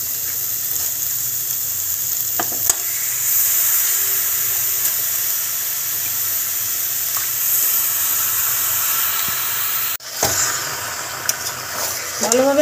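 Duck meat hits a pan of tomato paste and sizzles in a steady, loud hiss that continues throughout, with a sharp clatter partway through and a brief burst of stirring noise near the end.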